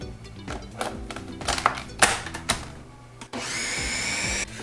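A blender whirs steadily, close and loud, mixing banana pudding cheesecake batter with four whole eggs and vanilla extract, after a run of clatter and thumps.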